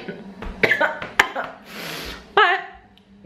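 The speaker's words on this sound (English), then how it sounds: "My throat still really hurts, and I'm coughing a lot" A woman with a sore throat coughs several times in short, sharp, close bursts, with a throat-clearing rasp between them.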